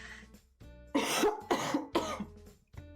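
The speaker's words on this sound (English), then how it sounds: "I'm probably going to be coughing an awful lot today." Several harsh coughs in quick succession, close and loud, with short pauses between bursts and a quieter start.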